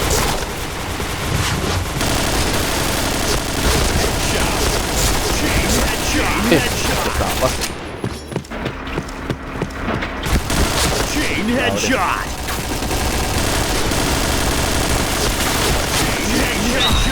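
Rapid bursts of video game gunfire crackle almost nonstop, dense and loud, with a short lull midway, while a player's voice talks over the shooting.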